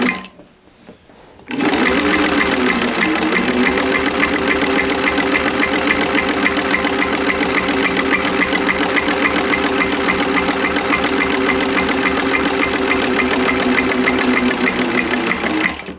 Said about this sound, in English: now I'm just gonna get my buttonholer going here